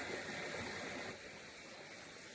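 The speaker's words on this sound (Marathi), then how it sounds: "हे शेतातनं पाणी येतंय बघा" Water runs in from farm fields beside a forest in a village. The gushing flow is faint, steady and continuous, and it eases slightly midway, with no voices.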